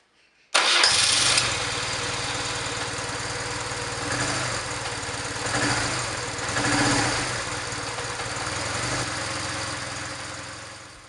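A BMW R 1150 GS motorcycle engine cranks and fires, then settles into a steady, loud idle close by while its throttle-body air screws are being adjusted; the idle wavers slightly throughout, with no talking.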